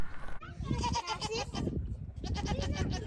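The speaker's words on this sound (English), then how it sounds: "The goats." Young goats in a farmyard being penned behind an electric net fence bleat loudly and close by in two overlapping bursts, wavering cries with a brief pause between.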